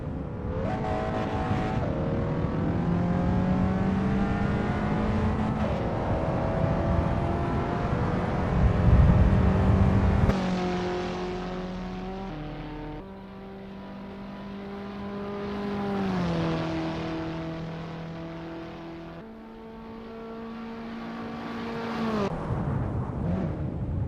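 Abarth 500 race cars warm up at the Macau Grand Prix circuit in the Assetto Corsa racing game. Their engines whine in long revving tones that rise, fall and shift pitch, with one loud surge partway through.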